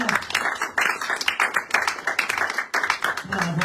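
Congregation applauding in a church, steady dense clapping filling the space for several seconds, with voices mixed in and a louder burst toward the end.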